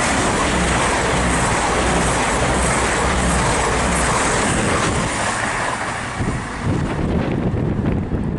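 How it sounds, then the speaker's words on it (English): A Meridian passenger train from Sheffield to London St Pancras rushes through St Albans City station, a loud, dense roar mixed with wind buffeting the microphone that eases slightly toward the end. "passing through now is a Meridian from Sheffield to London St Pancras"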